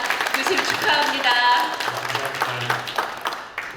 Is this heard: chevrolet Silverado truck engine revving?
no